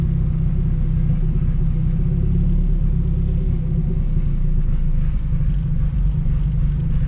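A turbocharged B16A-swapped Honda Civic EK idles roughly, its running lean-rich injection causing spits and pops, giving a steady, close, heavy low rumble with no voices.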